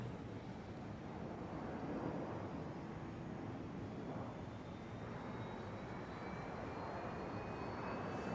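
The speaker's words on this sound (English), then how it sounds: "Can hear the APU spooling up." The APU of an Airbus A319 spools up in the X-Plane 11 flight simulator: a steady broadband roar with faint whining tones slowly rising in pitch, continuous and without talking.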